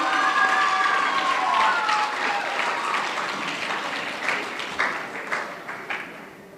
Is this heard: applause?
yes